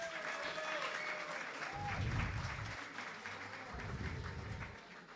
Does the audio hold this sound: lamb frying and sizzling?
no